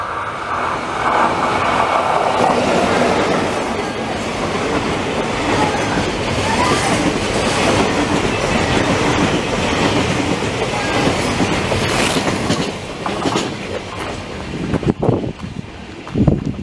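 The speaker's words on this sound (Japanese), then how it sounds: "まさかの貨物だとは思いませんでした" A freight train rolls through JR Tsushimanomiya Station in Kagawa, Japan, with a loud, close rumble, clickety-clack of wheels over rail joints and wind buffeting the microphone, fading toward the end.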